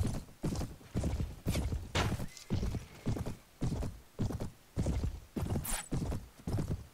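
Horse hooves clip-clop in a regular galloping rhythm in the Mount & Blade video game, loud and close, with a neigh breaking in partway through and no talk over it.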